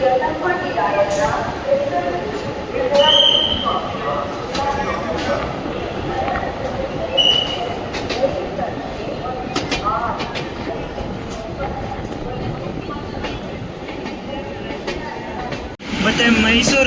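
An express train rolls past the Mysore Ajmer special at Gadag junction, with a steady rumble and rhythmic wheel clatter heard from inside the coach, a voice talking over it and occasional sharp squeals.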